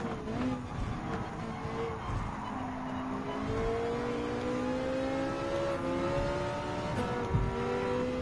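Race car engine in Gran Turismo 7, racing alongside an Alfa Romeo Giulia GT8M: a close, loud engine note that rises in pitch through the gears, drops at each shift, then climbs again.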